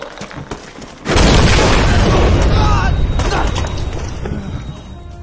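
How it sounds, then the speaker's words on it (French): A grenade goes off in a French action film: a sudden heavy boom about a second in, followed by a long, loud roar of blast, debris and rumble that slowly fades, with a voice shouting before it. "Grenade!"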